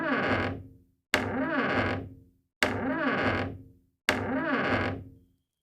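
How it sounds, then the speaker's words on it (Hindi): An old rocking chair creaking as it rocks slowly on its own, four long drawn-out creaks evenly spaced with short silences between, close and clear. "कमरा के बीच मन एक पुराना रॉकिंग चेयर अपन आप धीरे धीरे हिलत रहीस"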